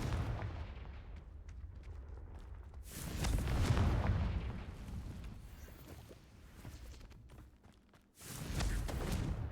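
Confringo spell blasts in Hogwarts Legacy, a run of booming explosive bursts with a heavy low rumble, the loudest hits swelling around the middle and again near the end amid continuous game combat noise.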